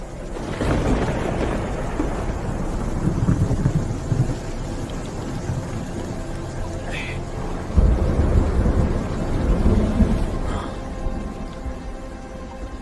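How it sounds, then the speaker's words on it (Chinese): Steady rainfall hisses under deep rolling rumbles of thunder, with a louder surge of thunder about two-thirds through; no voices are heard. "下雨了"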